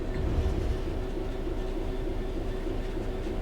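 A train running in the video game Train Sim World 3 at the training center, a steady loud rumble with a constant low drone and faint rhythmic wheel clatter, alone without talk.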